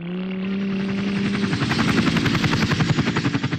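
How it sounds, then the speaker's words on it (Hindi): A helicopter in flight, its engine whine giving way to loud, rapid rotor chopping that grows stronger and more pulsing as it nears, with no voices. "हेलीकॉप्टर से"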